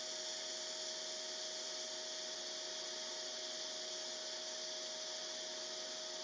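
Steady, even TIG arc hiss on 3 mm steel sheet at 95 A, using a 1.6 mm tungsten and 1.6 mm filler rod on a Parkside PMSG 200 A2 multi-process welder, holding constant and fairly quiet with no talk throughout.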